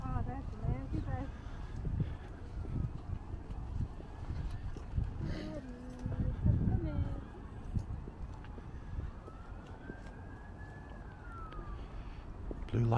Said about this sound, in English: You can hear the sirens going off across the way.